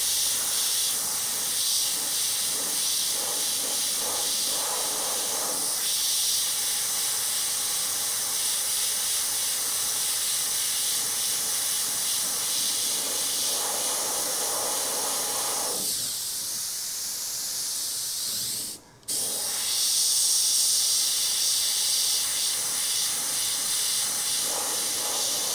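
An airbrush sprays fluorescent paint over a Lucky 13 skull stencil from AirShot, giving a steady, close, airy hiss that runs almost unbroken, with a brief cut-off near the end before resuming.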